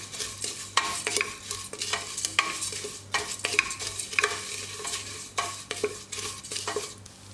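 Unroasted vermicelli (semiya) being dry-roasted in a pan for payasam; a spoon scrapes and taps against the pan in repeated quick strokes over a soft sizzle, close up, with no voices.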